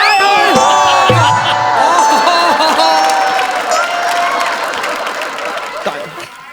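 An audience claps at a live stage comedy show, a close, dense wash of clapping with cheering voices and laughter layered over it, fading slightly toward the end.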